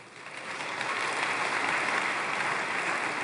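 An audience applauds a speech by Benjamin Netanyahu, a dense, even wash of clapping that swells in the first second and then holds steady, with no voices over it.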